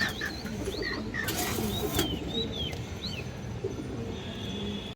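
Pigeons flap their wings in a loud burst, with chirps and coos around it and a steady background hiss.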